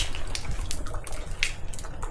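A small stream trickles steadily past an abandoned old mill from 1608, with continuous bubbling and splashing water close by and nobody speaking.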